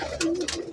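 A pigeon gives a single soft, rolling coo close by, short and clear with a slight throaty tremble.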